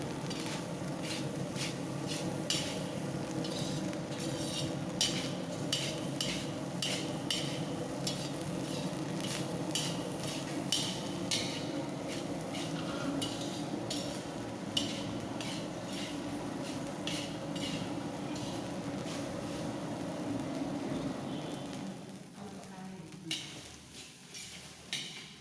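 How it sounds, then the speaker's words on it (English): Chicken masala with coconut is roasted in a pan, a continuous sizzle with repeated scraping and stirring strokes of a utensil against the pan, close and steady before trailing off near the end. "Now we need to roast till you get good aroma from the coconut"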